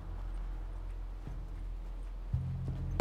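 Horse hooves clip-clop in The Last of Us, sounding as a few faint, spaced knocks over a steady low game hum.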